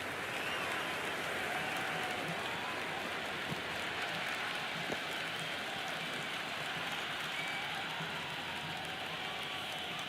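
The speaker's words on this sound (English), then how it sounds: "The rain is falling quite heavily now, and the umpires had no hesitation in calling the players off the field." Heavy rain falls on a cricket ground during a Test match between England and Australia, a steady, even wash of noise heard from a distance with a faint crowd murmur beneath, no voices clearly heard.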